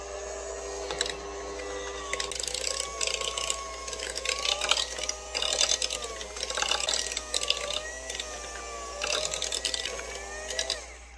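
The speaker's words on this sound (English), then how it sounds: "I'm just going to be using my cordless hand mixer." A cordless hand mixer beats brown butter chocolate chip cookie dough in a bowl, giving a steady whirring motor with rattling beater clatter in repeated bursts, close and fairly loud, with no talking.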